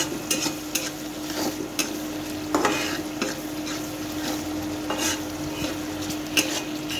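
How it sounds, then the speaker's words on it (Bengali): Onions frying with salt and turmeric in a pan, stirred steadily so a continuous sizzle runs throughout, broken by repeated scraping strokes of a spoon against the pan; close and fairly loud, with no talking. "হলুদ সুন্দর করে লাল লাল করে ভেজে নিতে হবে"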